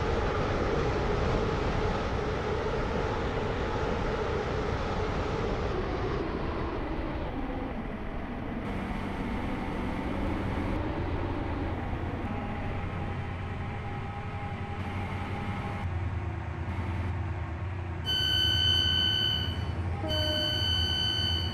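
A passenger train in the Roblox game Stepford County Railway runs with a steady rumbling drone that slowly eases in pitch, followed by a few short electronic tones near the end.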